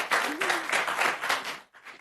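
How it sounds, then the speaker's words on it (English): Brief, thin audience applause at a live comedic political show, a short patter of clapping that quickly fades out toward silence. "That was pity applause."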